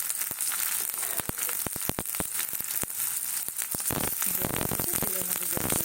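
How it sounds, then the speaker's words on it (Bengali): Wet, freshly washed chopped onions hit hot oil in a kadai and sizzle loudly and steadily, with dense crackling spatter throughout. "তেলের মধ্যে জল করলে একটু আওয়াজ হয়।"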